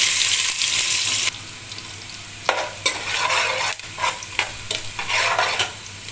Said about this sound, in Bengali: রসুন অ্যাড করলাম, রসুনটা এখন তো ফ্রাই করুন। সাথে পেঁয়াজ অ্যাড করলাম।